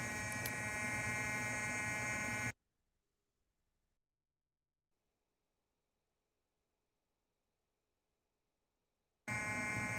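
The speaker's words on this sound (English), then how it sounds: "Just fire alarm goes off." A fire alarm goes off indoors as a loud, steady electronic tone with a harsh buzzing edge, stopping abruptly, leaving several seconds of near silence, then blaring again just as loudly.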